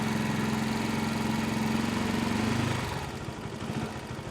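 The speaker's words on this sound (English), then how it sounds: "It's a warm day, so it shouldn't take long for this bike to warm up." A Janus 250 motorcycle engine warms up on a warm day, holding a steady, close idle that dips in level near the end into a rougher, lower putter.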